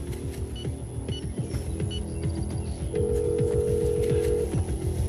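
A short electronic alert tone on a phone, signalling a bank withdrawal notification in a French drama, sounds as a steady held beep over a low background bed of music and room noise.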